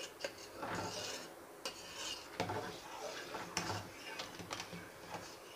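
Spoon scraping around the sides of a pan of simmering makhana kheer, milk slowly thickening, with repeated soft scrapes and light metallic clinks close by, steady and moderately quiet.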